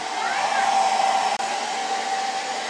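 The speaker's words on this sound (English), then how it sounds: "Now shut your hair dryer off." A hair dryer blows steadily with a constant whooshing hum and a slight whine, interrupted by a split-second dropout midway.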